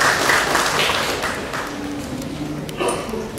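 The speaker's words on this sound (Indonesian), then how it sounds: "Kita berikan tepuk tangan buat Kepala Dinas PUPR." Audience applause for the Head of the PUPR Office at a contract-signing event opened by the NTT governor, a steady wash of clapping that starts strong and slowly thins over a few seconds, with faint voices and small knocks mixed in.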